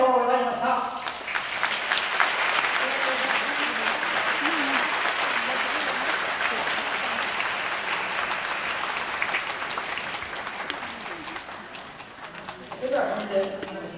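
Sustained applause from an audience at a kimono dressing contest's school division, dense and steady for most of the run, with a voice speaking briefly at the start and again near the end.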